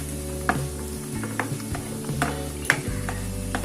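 Onions and spring onion whites stir-fried with garlic in a hot pan for chicken fried rice, a continuous crackling sizzle punctuated by metallic scrapes and clanks of a spatula against the pan, close and fairly loud.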